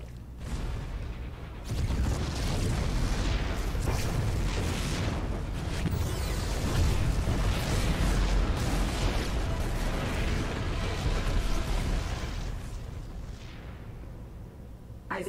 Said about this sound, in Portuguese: As explosões pararam.